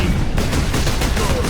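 Bolter, the Space Marines' service weapon firing propellant-driven bolt rounds in the video game Space Marine, cracks out a dense, continuous burst of heavy gunfire that stays loud throughout.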